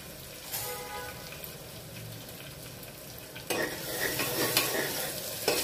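Onion fries in a pan with a quiet, steady sizzle. Faint stirring scrapes are heard, and the frying grows louder and busier midway as the pieces hit the hot oil.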